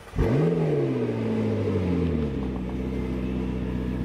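A loud engine roars up in pitch and then holds a steady, heavy rumble, sounding close and continuous throughout.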